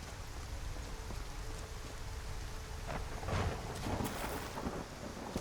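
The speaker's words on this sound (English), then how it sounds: "It is dark, it is rainy." Rain and thunder at night in the video game Skyrim, a steady hiss of rainfall with rumbling thunder swelling in the second half, heard alone at moderate level.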